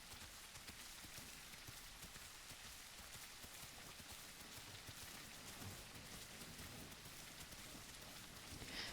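Steady in-game rain falls in a dinosaur survival game, a constant hiss on the ground that holds evenly throughout with no other sounds standing out.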